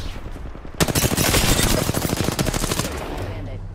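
Close, loud automatic gunfire in the battle royale game Apex Legends, a dense rapid burst lasting about two seconds before tapering off, with in-game voice lines nearby.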